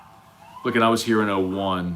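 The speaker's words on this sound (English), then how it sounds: "You can hear the sirens behind me." Wailing emergency vehicle sirens sweep up and down outside a football stadium in Atlanta after a college game, loud and close, rising beneath someone talking throughout.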